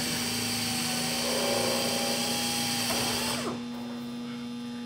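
Power drill with a number 30 bit boring through aircraft sheet metal, a steady high whine holding for about three seconds before it cuts off abruptly, leaving a quieter hum.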